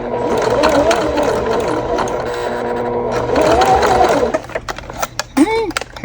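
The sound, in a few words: sewing machine stitching a bag slowly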